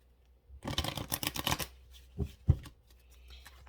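A deck of guidance cards for a reading is riffled quickly in a burst of dense papery flutters, then a couple of separate card taps and soft handling sounds follow in a quiet room.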